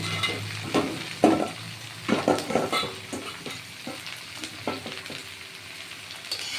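Pieces of bottle gourd frying in a pan for a Bengali vegetarian lau ghonto, a steady close sizzle broken by the scraping knocks of a spatula stirring in bursts.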